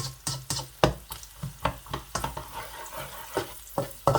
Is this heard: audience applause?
no